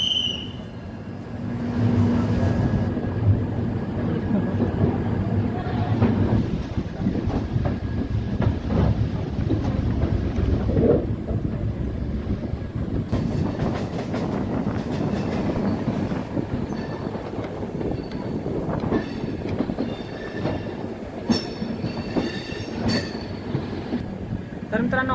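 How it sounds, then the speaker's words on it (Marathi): The Karnataka Sampark Kranti Express from Yeshwantpur to Hazrat Nizamuddin pulls out of platform 6, with rumbling wheels, rhythmic clickety-clack, occasional squeals and metallic clanks building over a steady, fairly close roar, with faint voices at times. "12629 यशवंतपूर हजरत निजामुद्दीन कर्नाटका संपर्क क्रांती एक्सप्रेस प्लॅटफॉर्म नंबर 6 वरून निघालेली आहे।"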